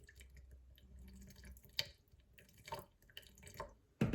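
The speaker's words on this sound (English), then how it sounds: "I'm going to pour off just a little bit more" Water poured off a jar of fermenting tomato seeds, heard as soft intermittent trickles and drips, with a sharper splash near the end.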